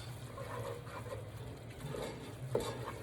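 A spoon stirs garlic powder into a pot of tri tip chili, giving a soft continuous wet swishing and scraping with one brief clink near the end, close and fairly quiet.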